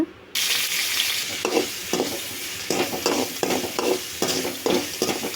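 Vegetables hiss and sizzle in hot sesame oil in a pan for a tangy tamarind curry, with repeated stirring scrapes breaking the steady frying roughly every half second, close and fairly loud.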